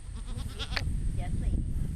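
Fainting goats on a farm giving a few short bleats at mid distance over a steady low rumble of background noise.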